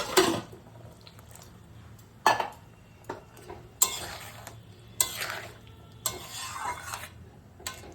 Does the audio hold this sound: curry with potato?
yes